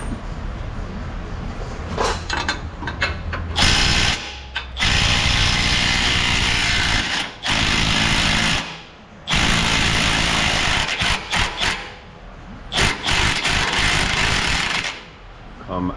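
An angle impact wrench rattles off mount nuts on a Toyota FJ Cruiser damaged after sinking off-road, loud close bursts of hammering separated by short pauses with clanking in between.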